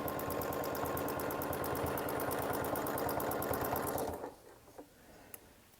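A sewing machine stitches through a quilt seam with a fast, steady run of needle strokes for about four seconds, then stops, leaving faint clicks and handling noises.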